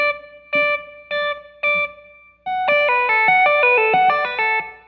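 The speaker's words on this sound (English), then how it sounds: "I'm deliberately doing this with a clean sound" Clean electric guitar notes ring out, four single plucked notes followed by a quicker run of sustained, overlapping notes, bright and close.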